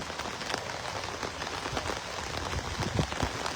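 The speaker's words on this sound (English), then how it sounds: "We're out here in the rain" Steady rain falling during an outdoor soccer match, a dense continuous patter of drops with no voices heard.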